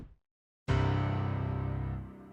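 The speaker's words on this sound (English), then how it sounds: "is the piano, which sounds like this." A grand, open piano in a 2000s-style hip-hop beat built in FL Studio: one sustained, full chord rings out loud after a brief moment of silence, then slowly decays.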